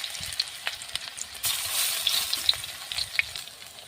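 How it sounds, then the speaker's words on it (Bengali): Potato fritters hiss and sputter as they go into hot oil, a soft steady sizzle with scattered crackles and pops rising sharply partway through, close and moderately quiet with no voices. "তো বড়া ভাজতে একটু তেল লাগবে। এইভাবে আলুর বড়াগুলো দিয়ে দিলাম।"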